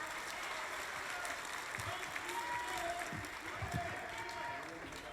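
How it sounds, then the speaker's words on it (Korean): An audience at a Korean People's Party campaign launch rally in Gyeonggi Province claps and cheers in steady, dense applause, with an announcer's voice over it. "뜨거운 환호와 박수"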